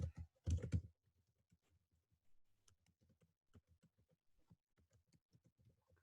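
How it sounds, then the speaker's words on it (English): Typing on a computer keyboard while filling in web form fields: a quick burst of keystrokes, then a sparse, irregular patter of soft individual key presses, close and quiet, with no talk. "Here I am typing my first name"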